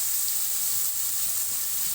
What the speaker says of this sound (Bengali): এখন করলাগুলো ভাজার জন্য ছেড়ে দিয়েছি তেলে